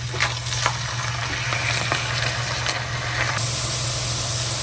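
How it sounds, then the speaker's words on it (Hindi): Onions frying in oil until light brown for chicken changezi, a loud steady sizzle and crackle with a low hum underneath and a few faint stirring knocks. "तो इसको हम लाइट ब्राउन कर लेते हैं प्याज़ों को"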